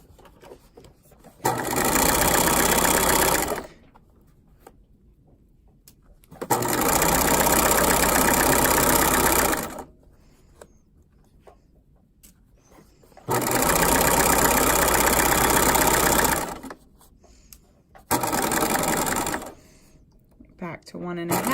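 A sewing machine stitches a drawstring bag, held at a 5/8 inch seam, in four loud bursts of fast, even whirring a few seconds each, separated by quiet pauses with small handling noises.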